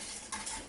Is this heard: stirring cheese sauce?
yes